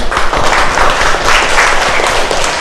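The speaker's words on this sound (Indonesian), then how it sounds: "maka beri tepuk tangan untuk kelompok 1 sampai kelompok 6" A classroom of students applauds groups one through six, a dense, steady burst of clapping from many hands close by, filling the whole short span without speech.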